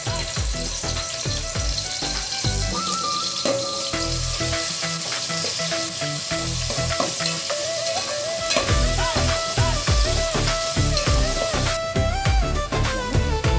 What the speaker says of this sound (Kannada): ಎಣ್ಣೆ ಕಾದ ನಂತರ ಈರುಳ್ಳಿ ಹಾಕಿ ಕೆಂಬಣ್ಣ ಬರೋ ಥರ ಫ್ರೈ ಮಾಡ್ಕೊಳ್ಳೋಣ.